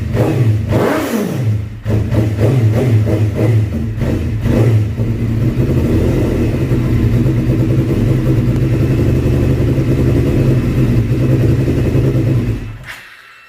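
A Suzuki GSX-R750 sport motorcycle engine runs close and loud, a few quick revs at first, then settles into a steady rumbling idle before cutting off.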